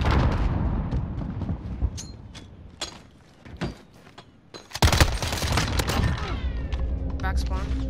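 Bursts of automatic gunfire from an enemy sentry gun in a multiplayer shooter, loud and close, with rapid volleys, a brief lull in the middle, then a heavy renewed barrage, while players talk over it.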